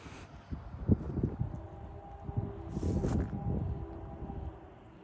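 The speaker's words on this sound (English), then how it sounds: "we finally got in a northbound train after waiting for half an hour" A northbound intermodal freight train rolls past at a railside spot near Holland Landing, a steady low rumble and rattle with a distant horn-like tone rising midway, continuous and fairly close.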